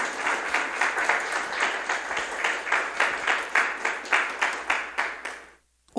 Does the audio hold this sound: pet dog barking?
no